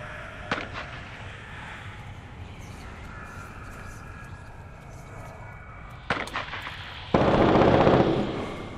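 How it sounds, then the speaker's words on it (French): Gunfire in the battle royale game Cuisine Royale: a sharp distant shot early on, then a cluster of shots near the six-second mark and a louder burst of firing toward the end, with a voice talking over the game. "Il tire là-bas"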